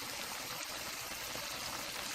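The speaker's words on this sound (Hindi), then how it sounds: "2 बड़े गिलास पानी के डाल दूँगी" Water pours into a cooking pot of aloo gosht, a soft, continuous splashing stream heard alone at low volume.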